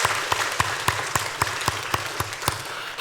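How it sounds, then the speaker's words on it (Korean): A church congregation at a Sunday service applauds in thanks, a dense wash of clapping with sharp, evenly spaced claps standing out in a steady rhythm, fairly close and with no talk. "하나님께 감사의 박수, 영광의 박수 올려드리겠습니다."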